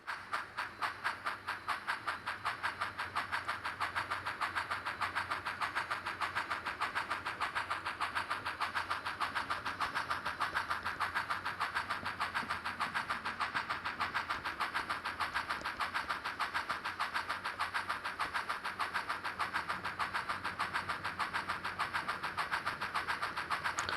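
Missabe Northern freight train pulling out of the West Duluth yard, a steady rhythmic engine drone with fast regular pulsing, continuous and fairly loud throughout with no talk.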